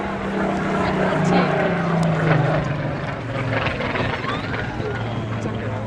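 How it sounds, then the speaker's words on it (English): A Spitfire flying at the Wales National Airshow, its propeller engine droning in a broad, steady roar that swells slightly and then holds, with a commentator talking over it. "There we go, the Spitfire."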